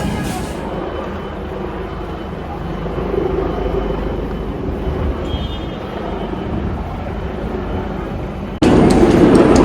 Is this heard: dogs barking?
no